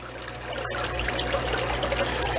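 Water trickles steadily down a fish room waterfall clogged with duckweed, a close, continuous splashing stream over a low hum, with no speech.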